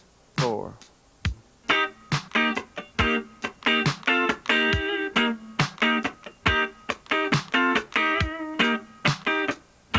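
Electric guitar plays a funk rhythm part at slow tempo, clean choppy chord stabs and muted scratches in a steady syncopated pattern, close and alone without other instruments.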